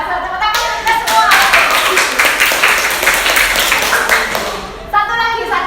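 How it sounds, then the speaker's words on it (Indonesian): A classroom group claps hands together during an Indonesian lesson, a dense burst of clapping that runs for several seconds among children's voices and fades near the end. "tepuk tangan kita semua"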